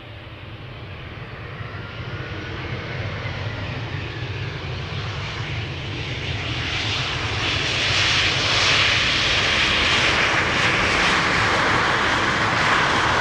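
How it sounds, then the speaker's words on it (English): An EasyJet Airbus A319 jet arrives at Amsterdam Schiphol, its engine roar swelling steadily from a distant rumble to a loud, broad whine as it approaches and passes overhead, with no voices. "This is an EasyJet A319 arriving from London Gatwick."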